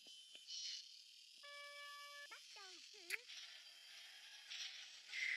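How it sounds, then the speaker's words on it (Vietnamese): Cicadas buzz at midday as a steady, high-pitched hiss throughout, with a few brief tonal chirps and whistles cutting across the middle. "buổi trưa đang mát mẻ như vậy mà mấy cái con ve nó kêu lắm thật đấy"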